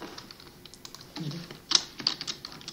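Quick, light keystrokes on a computer keyboard, typing a command in a quiet room, with irregular clicks clustering into a brief burst toward the end.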